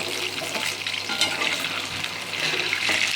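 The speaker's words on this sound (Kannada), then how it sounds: "ಈ ಥರ ಚೆನ್ನಾಗಿ ಫ್ರೈ ಮಾಡಿ." Chicken kabab pieces fry in a pan with a dense, continuous crackling sizzle, close and fairly loud, swelling slightly toward the end, with no talking.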